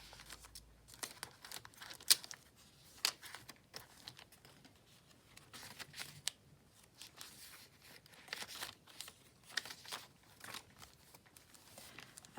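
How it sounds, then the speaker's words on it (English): A small bag tucked inside a handmade mauve mini junk journal crinkles in close, soft bursts of rustling and crackling, with pauses between handlings. "It makes a nice sound to it as well, the little bag."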